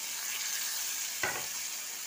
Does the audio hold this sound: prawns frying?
yes